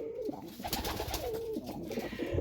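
A pet pigeon in a loft gives low rolling coos, several soft warbling calls over about two seconds amid a busy, noisy background.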